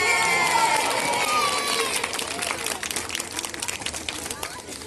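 An audience at a sea lion show in a safari park cheers loudly, a broad wash of crowd noise and claps that breaks into scattered, patchier applause, with voices mixed in.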